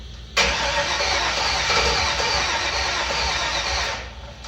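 An old five-window truck engine, just fitted with a new fuel pump, cranks and catches, then runs with a loud, steady rumble before easing off at the end.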